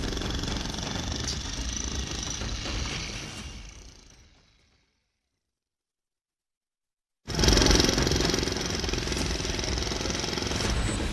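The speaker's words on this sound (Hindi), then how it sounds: "मस्जिद की दीवार पर दनादन ड्रिल मशीन चल रही है।" Drill machine breaking a mosque wall in Uttar Pradesh pounds with loud, rapid jackhammer-like hammering, fades out around four seconds, falls silent, then resumes abruptly at full strength.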